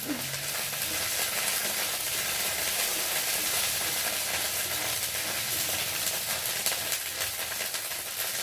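Ginger and turmeric fry in hot oil in a pan, a loud, dense, continuous sizzle that holds steady throughout with no talking over it.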